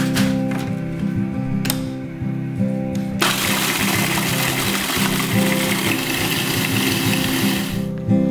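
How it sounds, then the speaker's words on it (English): A food processor grinds a whole box of Oreos into fine crumbs, giving a steady loud motor whir with a rapid rattling chop that grows noisier and denser partway through, close and continuous. "So add the entire box to the food processor."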